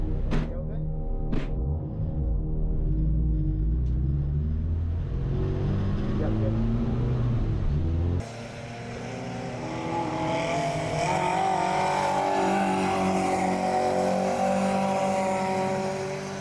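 Race car lapping a circuit during a 2025 racing season, engine droning loudly and continuously with shifting pitch as it revs and changes gear, then a sharp change in tone partway through, with no voices.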